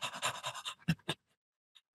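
A man imitates ragged panting breaths after a surfing wipeout: a quick run of rhythmic, breathy exhalations close to the mic, tapering into a couple of sharper gasps and then quiet.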